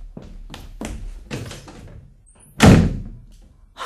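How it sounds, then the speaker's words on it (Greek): A door in a house is slammed shut as a boy leaves for school. A few soft knocks and thuds come first, then one loud, close slam rings out and fades. "Ακούστε πώς κλείνει την πόρτα."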